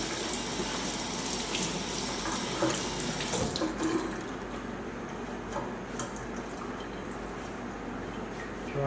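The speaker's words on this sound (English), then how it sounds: "Do a quick rinse with some veggie wash and water." Kitchen tap water running into a sink while vegetables such as a carrot are rinsed with veggie wash, a steady close splashing flow with small knocks and clinks, louder in the first half and settling to a softer, even stream.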